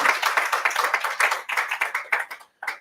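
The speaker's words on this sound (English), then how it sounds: "Please join me in applauding those community engagements." Hands clapping at a Resilient Islands closing ceremony, close and distinct, with a rhythmic run of individual claps that thins out and stops briefly before a final few.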